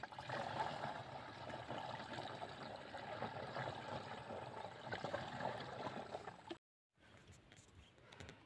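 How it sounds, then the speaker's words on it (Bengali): Liquid pesticide pours and splashes into a sprayer tank in a rice field, a steady trickling gush that runs for several seconds, cuts off abruptly, then resumes more faintly. "আমরা সুন্দর করে ট্যাঙ্কিতে লোড দেবো এখন।"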